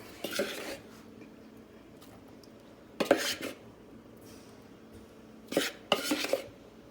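Dry flour and cocoa going into brownie batter in a bowl, heard as a few short bursts of scraping and clinking from utensil on bowl at roughly one-second and three-second intervals, close and fairly quiet, with no talking.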